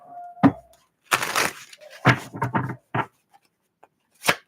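Tarot cards are shuffled by hand up close: a sharp tap, then bursts of riffling and slapping card noise in irregular clusters, separated by near silence, ending with one last crisp flick.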